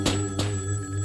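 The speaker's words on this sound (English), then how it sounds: "The next time the phone rang, Timmy answered it." A telephone rings in short repeated bell bursts with a steady electronic tone beneath, close and moderately loud, with no voices.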